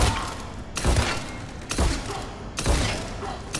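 Scimitar shotgun blasts in Mass Effect 3, three heavy booming shots spaced about a second apart, each with a short rumbling tail, loud and close.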